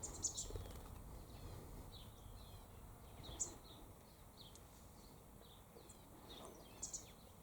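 Soft, scattered chirps and short calls from a family of quail moving together, with faint fluttering and rustling over quiet outdoor background; no talking.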